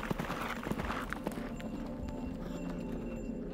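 Horse hooves clip-clop at a steady walking rhythm in Central Asia, fairly close and moderately loud, over a constant low background rumble with no talk.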